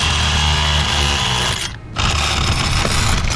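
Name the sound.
chiseling away at a motor shaft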